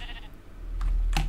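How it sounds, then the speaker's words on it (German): A Minecraft sheep gives two short, loud bleats in quick succession, close and clear with no talking over them. "Schaf, ein Babyschaf."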